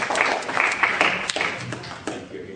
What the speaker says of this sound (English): Thank you all very much for that nice round of applause